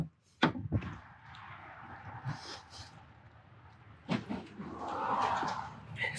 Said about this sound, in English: open up the hood here, show you what we got inside.